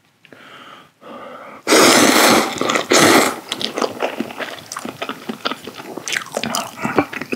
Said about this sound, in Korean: 소세지 더 먹어봐.